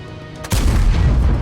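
A Panhard EBR 105 wheeled vehicle fires its 105 mm gun in a tank video game: a single sudden loud boom that cuts into quieter ambience and rolls on as a sustained rumble.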